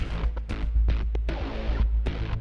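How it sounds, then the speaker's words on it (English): Two distorted metal guitar pedal layers from the Oblivion sample library, one hard left and one hard right, blend into a loud, chaotic churn of chugging hits and sharp stabs throughout. "So one pan to the left, one pan to the right, together they sound like this"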